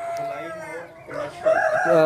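Plymouth Rock rooster crowing among hens at a breeding setup, a single drawn-out crow rising over low background clucking and murmur, fairly close and moderately loud.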